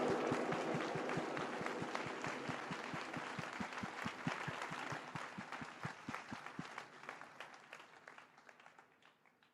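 Congregation at a church service in Gabon applauds together, the claps falling into a fast, even rhythm that fades gradually toward the end, moderately distant with faint crowd murmur beneath.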